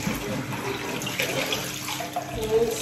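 Hot water runs from a kitchen tap for rinsing, giving a steady, close rush of splashing flow that continues without a break.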